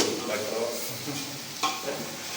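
Food frying in a pan while being stirred, a crackling sizzle broken by scraping and clattering strokes, heard up close.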